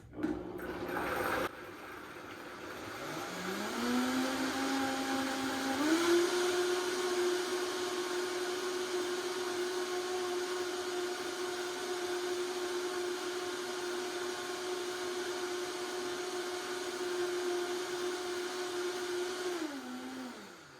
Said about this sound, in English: this is a loud machine. But we'll turn this on and process it.